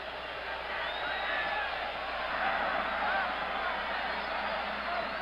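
Large crowd noise at a 1977 Gator Bowl college football game between Clemson and Pittsburgh in a stadium, a steady dense roar and murmur of thousands with scattered whoops, continuous throughout at even loudness.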